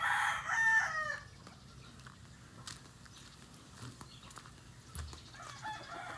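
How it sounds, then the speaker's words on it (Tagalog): Fighting roosters crowing in a backyard in the Philippines, one crow loud and close near the start, then quieter fowl sounds against low background rumble. "may mga roosters, mga panabong ng manok"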